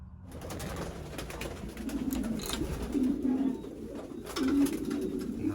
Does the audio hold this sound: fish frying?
no